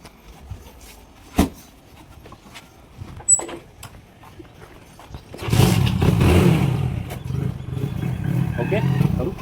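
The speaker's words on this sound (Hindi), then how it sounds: "मैं घर का दरवाजा बंद करूंगा, गाड़ी स्टार्ट करूंगा" A house door shuts with a couple of sharp knocks, then a vehicle engine starts and keeps running in a steady, fairly loud rumble.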